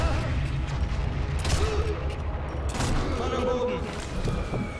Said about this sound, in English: Actually, there are bombs dropping around me.